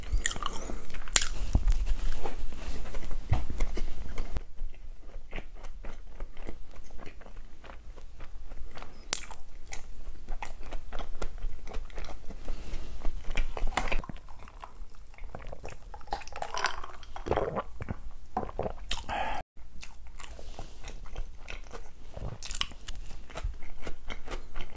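Close, crisp bites and steady chewing on a No Brand grilled bulgogi burger, with crunchy mouth sounds repeating throughout and occasional soft clicks of packaging or a plate.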